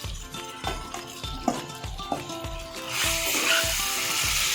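Marinated mutton fries in oil with ginger garlic paste for a pulao, a dense close sizzle over rhythmic scraping of a spoon stirring the pan, with the hiss swelling louder and brighter partway through.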